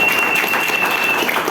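Audience applause at a business plan presentation, a steady, dense wash of clapping from many hands filling the whole moment, loud and continuous with a faint tone running underneath.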